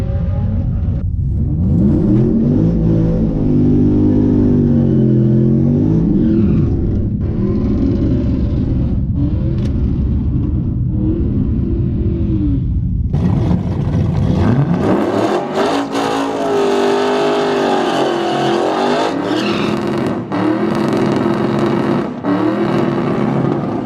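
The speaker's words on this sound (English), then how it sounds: "I should be able to tell in the burnout how it's gonna act" A drag racing truck roars through a burnout, its engine held at a loud, steady rev that wavers, then climbs into a harsher, brighter howl with a hissing edge partway through. No voices are heard.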